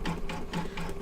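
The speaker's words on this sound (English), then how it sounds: "It's stitching now." An embroidery machine stitching, a close, quiet, fast rhythmic clatter of needle strokes repeating about four times within the second, with no voices.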